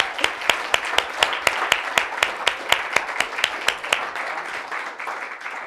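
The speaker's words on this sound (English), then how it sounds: "Any more questions before I start the clapping?" Slow, evenly spaced claps ring out about four times a second for roughly four seconds at a web developer meetup on React Hooks, sharp and distinct over a low room murmur, then fade out.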